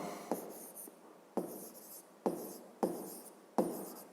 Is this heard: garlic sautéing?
no